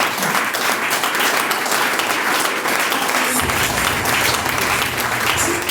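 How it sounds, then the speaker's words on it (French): Loud, steady applause and cheering from an audience at a company open day in Togo, broad and continuous throughout, with a rise in crowd noise partway through. "Acclamez très fort."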